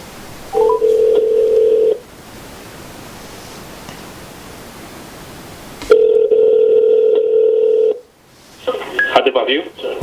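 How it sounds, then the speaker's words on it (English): Phone call dialing tones played through a Bose SoundWear Companion wearable speaker: two steady, loud tone bursts separated by quieter hiss, followed by a brief burst of garbled noise at the end. "Let's make a phone call."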